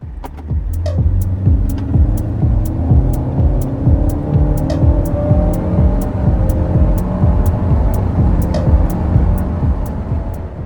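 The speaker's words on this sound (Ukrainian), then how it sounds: "Ми зараз спробуємо пришвидшення до 100 км на годину." Nissan Rogue SUV with a naturally aspirated engine accelerating hard to 100 km/h, its engine droning and rising in pitch through the gears, loud and close from inside the cabin with a steady road roar.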